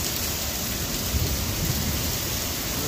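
Heavy rain pours down in a dense, constant hiss across the whole stretch, with a low rumble of thunder swelling beneath it midway, loud and close, with no voices.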